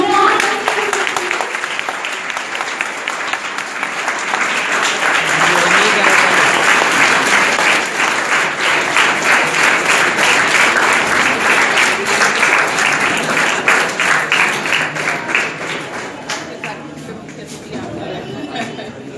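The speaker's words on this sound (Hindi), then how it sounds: "Big applause for all these guests." A ceremony audience giving guests at a certificate distribution a long burst of dense, loud applause that swells and holds steady before tapering off near the end.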